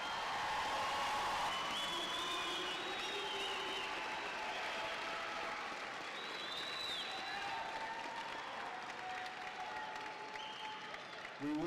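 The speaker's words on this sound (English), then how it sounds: "Audience, let's give these students a round of applause." Sustained audience applause at the Salina Tech 2024 commencement, honoring graduating students; dense, steady clapping from a large crowd fills the whole stretch with faint crowd murmur underneath.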